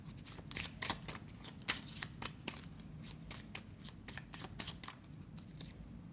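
A deck of tarot cards being shuffled, a run of quick crisp riffles and flutters in irregular bursts, close and fairly soft, with no voices.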